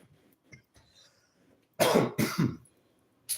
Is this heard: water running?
no